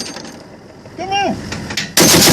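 .50 caliber machine gun fire from a C-18 gun truck, a distant boom or two with a voice calling out, then a sudden loud blast of gunfire at the end.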